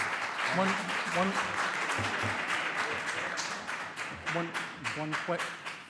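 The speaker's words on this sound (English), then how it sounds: "I appreciate if we can hold the clapping down." An audience at a planning board meeting claps in a loud, sustained round of applause that carries on throughout, with voices talking and calling out over it.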